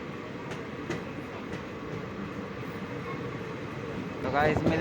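The Vishwamanava Express picks up speed leaving Dharwad, with a steady loud rumble of wheels on rail and faint rhythmic clicks, heard from inside the train. A voice briefly joins near the end.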